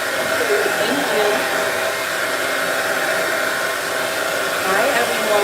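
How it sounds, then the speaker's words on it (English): A blow dryer runs steadily and fairly loud throughout, a continuous broadband whoosh while a hair and lash styling session is under way, with no talk over it. "Can you guys hear me with the blow dryer?"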